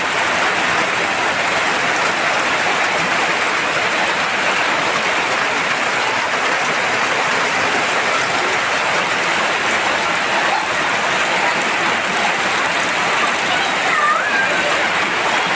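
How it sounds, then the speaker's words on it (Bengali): Loud, constant heavy rain drums and hisses on surfaces nearby, an unbroken downpour with no pauses. "প্রচুর বৃষ্টি হচ্ছে, প্রচুর।"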